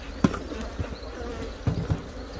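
Honey bees around an opened hive during colony splitting, a faint continuous buzzing drone with a few soft thumps and knocks of hive handling, close and low in level.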